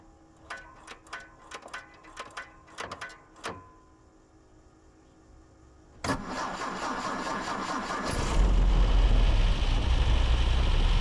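A 1963 MGB with a pull-handle starter is started in a garage: a few sharp clicks and knocks, then the engine catches with a burst and settles into a loud, rough idle that rises in revs.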